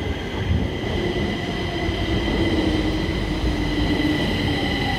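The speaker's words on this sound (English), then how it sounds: "today we are at Zinkensdam metro station here on Södermalm" Metro train at Zinkensdam station on Södermalm, Stockholm, on a very cold morning, rumbling loud and steady throughout with a faint wheel squeal running underneath, no voices.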